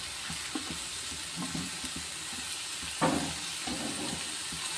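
Chopped onion and curry leaves hit hot oil in a pan, producing a continuous close sizzle with light popping, and a brief louder crackle about halfway through.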